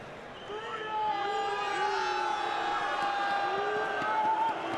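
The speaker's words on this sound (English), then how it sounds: "I didn't hear everything because the people are screaming a lot." An arena crowd at a Counter-Strike major esports event in Rio screams and cheers in a sustained, roaring wash of voices, fairly distant and steady throughout.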